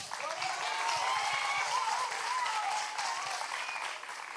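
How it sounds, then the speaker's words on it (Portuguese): A crowd claps loudly and continuously for a few seconds, with scattered cheers and whistles mixed into the applause. "Uma salva de palmas para Miguel."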